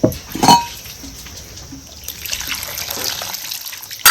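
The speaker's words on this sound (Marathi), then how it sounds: "असं दोन पाण्याने बोंबील धुवून घ्यायचं" Bombil fish being rinsed in cold water in a dish for kharda bombil, giving close splashing and trickling water with a louder splash at the start and a swell near the end, no voices.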